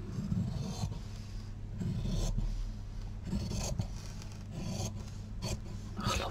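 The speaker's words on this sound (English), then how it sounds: "I love the sound of scissors" Scissors cut through fabric while flag pieces are assembled, producing a series of rasping, crunchy strokes in an uneven rhythm, close and fairly clear, with no talk.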